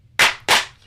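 Two sharp hand claps sound in quick succession, close and crisp, each dying away quickly against a near-silent background.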